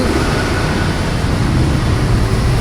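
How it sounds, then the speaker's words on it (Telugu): A loud, continuous rumbling roar of a train passing close overhead on a bridge above a road underpass, steady throughout with no voices. "పైన ట్రైన్ పోతుంది"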